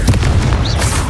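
A Confringo blast spell bursts in the Hogwarts Legacy video game, a loud, brief booming explosion with a dense low rumble filling the whole moment.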